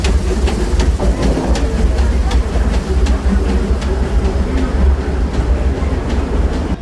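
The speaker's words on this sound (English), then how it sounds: "Oh, there was the train." Train at Disneyland rolling past nearby with a steady rumble and rapid clickety-clack of wheels on rail joints, loud and continuous.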